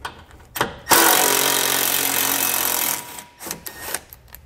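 A power tool whirs steadily for about two seconds while removing a 10 millimeter fastener from the bumper fascia and core support of a 2017 GMC Canyon, with small clicks and handling noises before and after.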